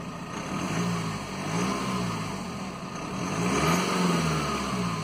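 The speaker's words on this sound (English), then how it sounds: "That's the car running. I'll give it a little rev," Diesel car engine idling and then revved twice, rising and falling in steady swells close to the microphone, alone without talk.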